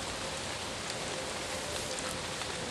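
Heavy rain pours steadily onto the leafy canopy of a woodland, a dense, even hiss of drops that is loud and constant throughout, with no voices.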